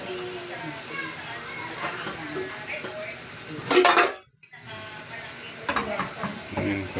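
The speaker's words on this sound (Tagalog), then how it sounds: "Marunong nang maghugas ng pinagkainan, magsabon ng mga plato, kutsara, baso." An eight-year-old child washing and soaping plates, spoons and glasses in a home kitchen, with repeated clinks and clatters of dishes and cutlery, a brief louder rattle midway, and someone talking over it.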